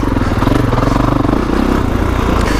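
A 2021 Kawasaki KX450X dirt bike engine lugs at low revs on a trail, a loud, close, steady thumping drone with rapid pulsing throughout.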